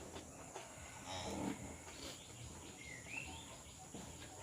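A cow on a farm gives a low moo in the middle of a soft outdoor background, with faint bird calls and distant noise around it; no one talks.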